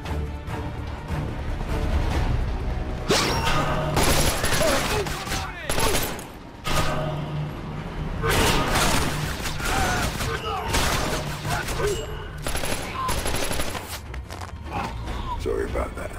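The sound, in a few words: gunfire in a video game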